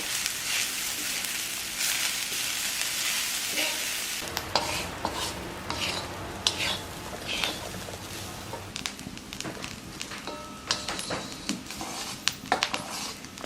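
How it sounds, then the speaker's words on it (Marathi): Grated fresh coconut being sautéed in a pan for a Konkani cashew usal masala, with a steady sizzle at first and then a scraping, clattering stir that runs throughout, with no voices. "आता हे सगळं एकत्र आपण छान परतून घेऊया."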